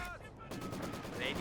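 Maxim machine gun firing in Company of Heroes 2, a rapid run of sharp automatic bursts with battlefield noise behind, muffled at first and then louder and closer, under faint game sound.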